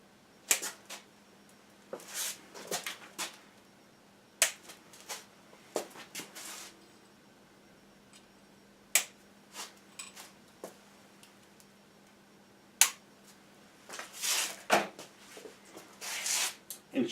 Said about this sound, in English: clip the ends off the zip ties.